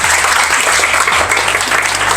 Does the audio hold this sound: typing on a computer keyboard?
no